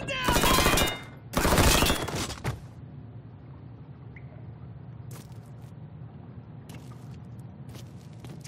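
Bursts of gunfire from the video game Mafia III: two dense, loud volleys in the first two and a half seconds, then a low ambient rumble with a few faint distant clicks.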